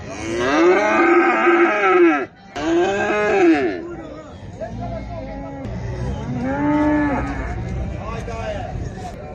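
Loud, drawn-out cattle moos, several overlapping calls close by, with a brief gap and livestock murmur in between.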